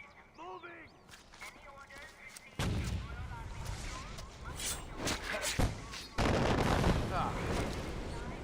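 Sniper gunfire in the Far Cry 4 video game, heavy booming shots and impacts cracking out in bursts over a dense, noisy game backdrop, growing louder and busier partway through.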